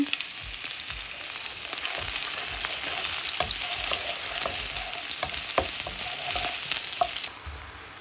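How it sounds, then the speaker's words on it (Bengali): Dried chili and garlic fry in hot mustard oil, giving a steady bright sizzle with small crackles and pops and occasional stirring clicks, which drops off abruptly near the end. "এখানে আমি সরিষার তেলের মধ্যে শুকনো মরিচ দিয়েছি আর রসুন দিচ্ছি তো এটা একটু ভাজা হয়ে গেলে"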